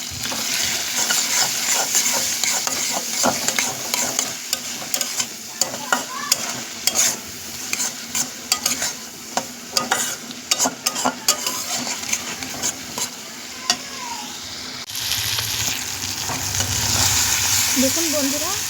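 Fish oil and spice paste with turmeric, salt, chilli powder, coriander and cumin frying in oil, with a steady loud sizzle and repeated scraping and clattering strokes of stirring against the pan.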